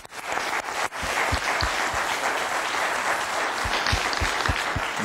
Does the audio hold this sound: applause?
yes